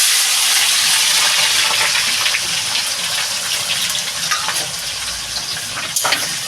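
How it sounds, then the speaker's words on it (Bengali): Chopped onion hits hot oil in a pan while making chicken kosha, a loud gushing sizzle that settles into steady frying crackle with a few stirring scrapes near the end. "পেঁয়াজ কুচিটা দিয়ে দেবো"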